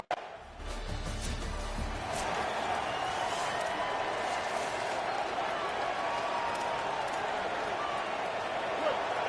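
A stadium crowd roars steadily in a college football video game set at DKR Texas Memorial Stadium in Austin, a dense constant wash of cheering and noise that holds throughout, with a brief low rumble at the start.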